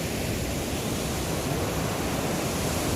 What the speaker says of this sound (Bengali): ঝর্ণাটা দারুণ দারুণ ওয়াটারফল